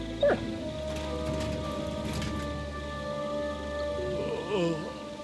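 A dog in Kingdom Come Deliverance 2 barks and whimpers with short yips near the start and end, over steady game ambience and light rain-like hiss.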